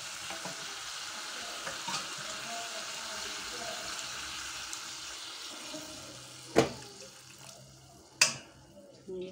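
Water poured into a pan of frying sardines for a Moroccan dish, producing a steady hissing sizzle and bubbling with a few sharp clinks of utensils near the end.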